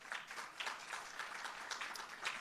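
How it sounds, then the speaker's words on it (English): Audience at a Christmas in July tourism event applauds in a steady wash of clapping. It is fairly faint and distant and stays even throughout. "I really want you to give them a round of applause"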